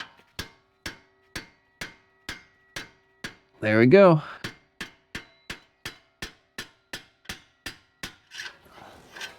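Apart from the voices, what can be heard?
hammer striking pry bar to loosen Acura MDX CV axle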